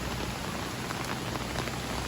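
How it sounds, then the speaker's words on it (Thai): Steady rain falls on an outdoor surface in Thailand in late afternoon, a dense, even hiss of drops that holds constant throughout with no voices or thunder. "ฝนตกตั้งแต่เที่ยงจ้ะพี่น้อง"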